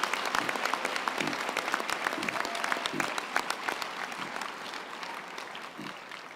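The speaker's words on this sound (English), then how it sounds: "can I ask that we give our esteemed graduates a collective round of applause" Sustained crowd applause for graduates at a university winter graduation ceremony, dense steady clapping from a large hall audience carrying on evenly for several seconds without talk.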